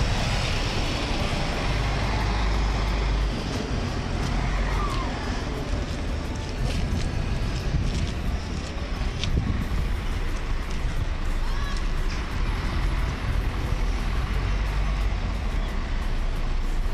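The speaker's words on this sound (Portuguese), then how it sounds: "São ônibus municipais." Municipal buses at an Amsterdam bus terminal beneath a metro line give off a steady, rumbling traffic drone and engine noise with some passing vehicles, while people talk faintly throughout.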